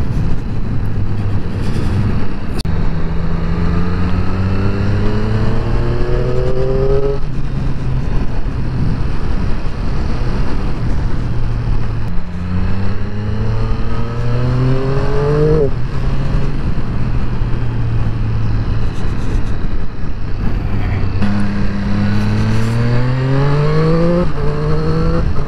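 A Triumph Street Triple RS motorcycle on twisty roads winds up through gears over and over, its engine note climbing, dropping at shifts and climbing again, loud and close under constant wind rush.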